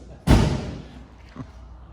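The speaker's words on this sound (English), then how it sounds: "You gotta slam them doors." A car door slams shut with a single loud, close thud, followed about a second later by a fainter second knock as the sound dies away.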